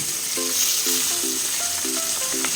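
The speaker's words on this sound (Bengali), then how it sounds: "এই একইভাবে আমি বাকি মাছ দুটোকে ভেজে নিচ্ছি" Pomfret fish fries in oil, crackling and sizzling steadily close by, with short melodic electronic beeps sounding over it; no talking.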